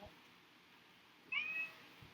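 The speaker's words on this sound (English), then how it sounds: "Hello, kitty. Come." A domestic cat gives a single short meow, close and clear, in a quiet indoor room with faint background hiss.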